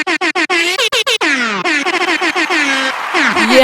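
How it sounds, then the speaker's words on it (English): Loud air horn blasts in a rapid burst of short honks, followed by longer wailing horn tones, brash and close with no talking. "Can we get some air horns for Kimmy?"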